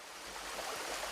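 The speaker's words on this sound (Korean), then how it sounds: "물이 졸졸 흐르고 있는 계곡 옆 보글보글 솟아나는 신비의 샘물" Water trickling along a valley stream beside a bubbling spring fed from deep underground, a constant soft wash of flowing water, steady and unbroken with no voices.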